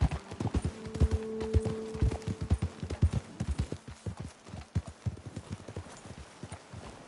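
Horses trot over ground in Red Dead Redemption 2, hooves clip-clopping in a quick, uneven rhythm close by that slows toward the end, with a faint whinny early on and no talk.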